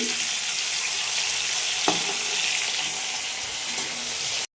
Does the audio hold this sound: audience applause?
no